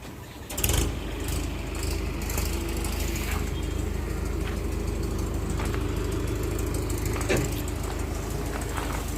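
A Mahindra 4x4 tractor engine idles with a steady, low rumble continuously at close range after a short knock at the start, with faint voices in the background.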